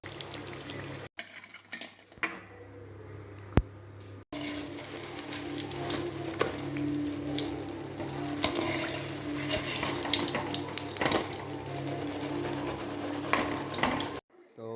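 Plantain bajji frying in hot oil, a steady bubbling sizzle lasting throughout with brief breaks near the start, close and moderately loud, with occasional stirring or clinking.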